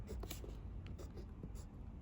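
Handwriting on paper while sketching a piano keyboard diagram for a music theory exercise, a steady scratchy pen or pencil sound with brief strokes, close and fairly quiet with no talking.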